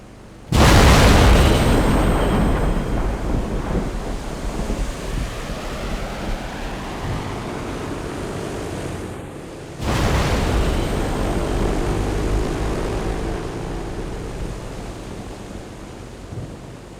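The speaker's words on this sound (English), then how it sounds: "their C-130 transport crew demonstrates the jet-assisted takeoff" A C-130 transport plane making a jet-assisted takeoff at the Blue Angels air show, a sudden loud roaring blast that holds as a broad rushing thunder, surges again midway, then slowly fades.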